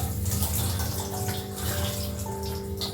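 Water runs steadily from a tap while dyed fabric from a cut pant suit is washed, its rinse water coming out deep red; a continuous, fairly close splashing flow with no voices.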